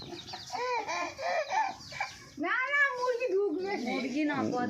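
Chickens cluck and squawk nearby in a rising and falling chatter, mixed with people talking.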